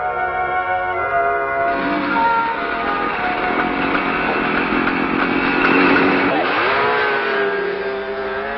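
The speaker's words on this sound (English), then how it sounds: "a cold-proof test is in progress for the newly developed small engine" A newly developed small Kawasaki engine running in a cold-proof test at minus 45 degrees, a loud steady buzzing drone with rising and falling pitch, close and continuous.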